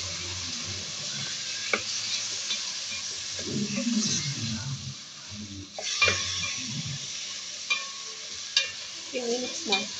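Chopped tomatoes hiss and sizzle in a hot pan on the stove while a spoon stirs them, the frying steady throughout with clinks of utensil against the pan rising here and there.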